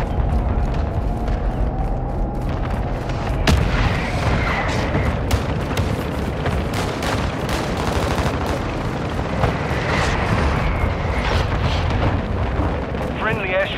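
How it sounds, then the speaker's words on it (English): Mortar strike explosions in Call of Duty: Modern Warfare II, heavy booms and sharp impacts scattered across a dense battlefield din of gunfire, loud and near, with radio-style voice callouts in the mix. "Hostile mortar strike incoming."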